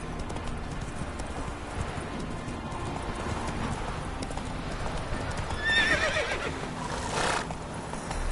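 Horse in the Witcher 3 video game, a continuous run of quick clip-clop hoofbeats at steady pace, with a loud whinny rising near the end over faint ambient rain.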